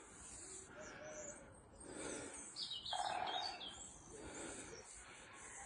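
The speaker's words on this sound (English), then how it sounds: "There's a woodpecker going off over my shoulder." A woodpecker calls from the woods, brief high calls rising over steady broadband forest hiss and outdoor background noise, with no talking.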